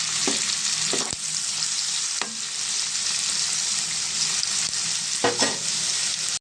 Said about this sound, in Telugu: ఉల్లిపాయలు బ్రౌన్ కలర్ వచ్చేదాకా ఫ్రై చేసుకున్నామండి